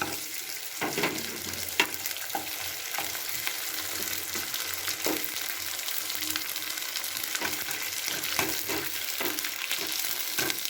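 Homemade papad made from leftover rice starch fries in hot oil, giving a steady bubbling sizzle broken by frequent sharp crackles and pops.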